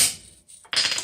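Two sharp metallic taps of a hammer striking a chisel in the root of a cut while forging a ram's head, bright and ringing, close by with a short pause between them.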